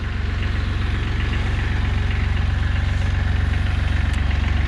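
A Kubota B1700HD 4x4 diesel tractor engine idles steadily up close, with a low, even throbbing pulse and no voices.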